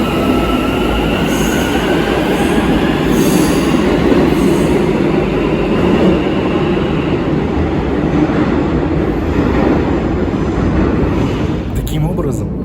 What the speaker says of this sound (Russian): на станции Алмалы каждый раз, когда поезд приходит и уходит